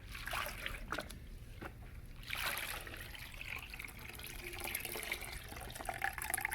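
A Mopar cold air intake filter for a 2015-and-up Challenger is rinsed in a bucket of clean water, with faint, irregular trickling, dribbling and splashing sloshes close by.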